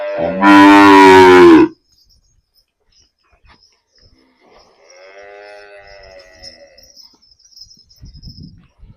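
A Jersey cross cow lets out one loud, long moo close by, followed by a quieter, more distant moo from another cow, while crickets chirp faintly and a rustle sounds at the end.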